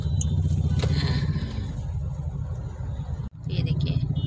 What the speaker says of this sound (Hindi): ये देखिए मीरा रोड का ट्रैफिक